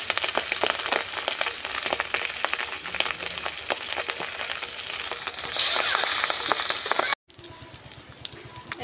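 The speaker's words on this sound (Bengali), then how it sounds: "এবার কড়াটা গরম হয়ে গেছে, এবার আমি তেল দিয়ে দেবো মাছটাকে ভাজার জন্য" Catfish frying in hot oil in a wok over a mud oven gives a dense, steady crackling sizzle that holds for about seven seconds, then cuts off abruptly and returns as a quieter, thinner hiss.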